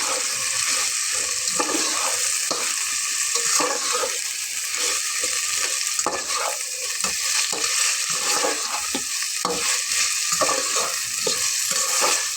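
Blended garlic, ginger and cumin paste sizzles loudly in a pan for khichuri, a dense continuous frying hiss broken by frequent scraping stirs and spluttering bursts.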